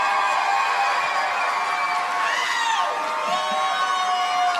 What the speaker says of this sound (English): How about one more round of applause for a great opening pair